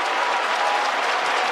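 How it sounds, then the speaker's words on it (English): Swans fans cheering and applauding at the SCG during an AFL match between Sydney and Gold Coast, a steady broad wash of crowd noise holding at moderate loudness throughout. "Finally, a reason for the Swans fans to cheer here at the SCG in this first quarter"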